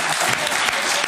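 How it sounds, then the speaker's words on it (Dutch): Studio audience at a Dutch talk show breaking into applause, a dense, steady roar of many hands clapping close and loud across the whole moment with no gaps. "Je krijgt hier gewoon applaus voor uw koekoek."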